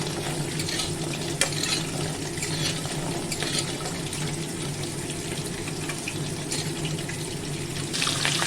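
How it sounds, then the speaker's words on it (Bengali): Fish frying in a little oil hiss with a steady, moderate sizzle, with faint clatters and a few brief sharp ticks over the constant crackle. "বাকি মাছগুলো ভেজে নিচ্ছি"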